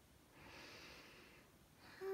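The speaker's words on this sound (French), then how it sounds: "je ferme mes yeux et je prends des respirations lentes et profondes" Slow, deep breaths taken with eyes closed: one long, soft inhale-exhale, then the start of another breath, faint and close.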